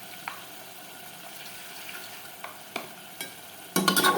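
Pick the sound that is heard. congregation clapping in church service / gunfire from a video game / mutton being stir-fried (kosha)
mutton being stir-fried (kosha)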